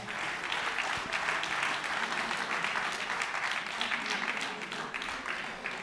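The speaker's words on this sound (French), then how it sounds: "Je vous demande d'applaudir le numéro 9" A stadium crowd applauds steadily for a football club's number 9 forward at a title celebration in Troyes, a dense, even wash of many hands clapping that holds for several seconds without a break.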